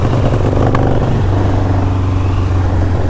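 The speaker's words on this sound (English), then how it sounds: "Very impressed with the way this bike runs." A 1983 Harley-Davidson Ironhead motorcycle engine runs loud and close with a thick, even low rumble and a rapid mechanical clatter, holding a steady idle throughout without speech.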